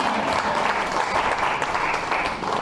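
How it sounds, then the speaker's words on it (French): A church congregation gives loud, dense and sustained applause that stays steady throughout with no break. "On l'applaudit"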